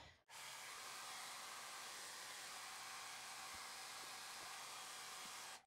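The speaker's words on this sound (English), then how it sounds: "I'm gonna do a quick blow dry." A hair dryer blows continuously on a bird painting done in craft paint, a steady close airy roar for over five seconds, starting and stopping abruptly with nothing else heard.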